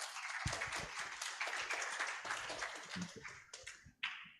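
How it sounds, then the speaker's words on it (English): Audience applause at an Indonesian dispute board forum session, a dense wash of many hands clapping together, steady for about four seconds and then easing off toward the end. "please give one more round of applause to Mr."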